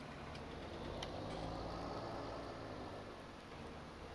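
Steady rain falls in Farming Simulator 19 on Oakfield Farm, a continuous hiss with a low machinery rumble beneath it and a couple of faint ticks, with no voices.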